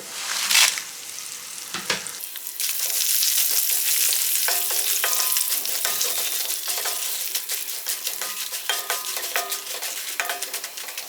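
Cumin, fenugreek and other seeds fry dry in a pan for curry leaf powder, opening with sharp spoon clatters before a steady close sizzle peppered with quick crackles and stirring scrapes, no speech.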